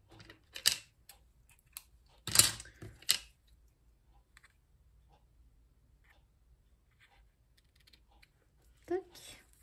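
Scissors cut through bouquet wrapping in a few crisp, isolated snips spread out against an otherwise quiet background.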